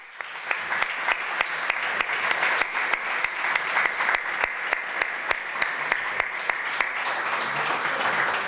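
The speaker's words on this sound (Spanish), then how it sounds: "yo quisiera que le diéramos a los directivos de la Fundación Nosaterra un gran aplauso por su enorme valentía" Audience applause at a foundation's panel talk, a steady wash of clapping with a few sharp, regular claps standing out close to the microphone, continuing throughout with no talk.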